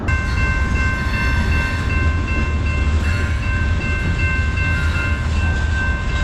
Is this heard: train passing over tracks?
yes